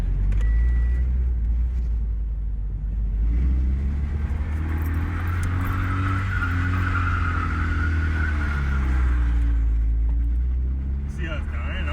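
A Toyota FRS engine drones steadily while the car circles during drift practice, the pitch sagging as if the motor is dying under full throttle, with people talking over it inside the cabin.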